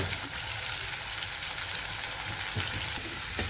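Shredded cabbage frying in a green chili tempering for a Gujarati cabbage shaak, giving a steady close hiss of sizzling with a few soft stirring knocks near the end.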